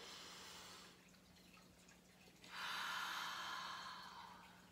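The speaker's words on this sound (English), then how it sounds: "Be pretty noisy breathing, and to me it sounds like the ocean." Slow, noisy meditation breathing with an ocean-like rush: a soft airy inhale, then a louder, fuller hissing exhale that swells and gradually fades, close and fairly quiet, with no talk.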